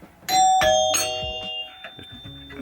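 A Gottlieb pinball machine chime box in need of a rebuild rings three quick bright chimes in succession, each tone hanging and slowly fading, close and clear without talk.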